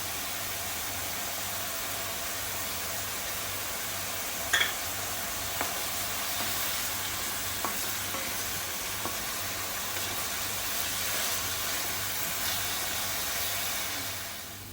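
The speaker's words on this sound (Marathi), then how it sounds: "थोडं मीठ टाकून आपण शिजवून घेऊया कांदा." Chopped onions cook with salt in a pan, a constant dense sizzling hiss with a low steady hum beneath and a few faint stirring clicks, no voices.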